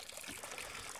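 Water from a basic ram pump's delivery pipe pours out in a steady, continuous rush outdoors, with no pauses and no voices.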